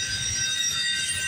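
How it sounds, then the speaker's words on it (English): A long CPKC 231 freight train hauling auto racks, with a BNSF unit, rolls past at the Guelph Line crossing in Campbellville, a steady low rumble topped by sustained high wheel squeal, with no voices. "This is one hell of a long train right here."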